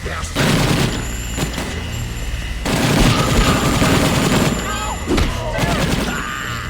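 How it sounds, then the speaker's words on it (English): Soldiers open fire in the video game Breakdown with bursts of rapid automatic gunfire, loud and close, broken by short pauses, with thuds and booms mixed in amid game noise. "soldiers manifest in the room and immediately gun you down"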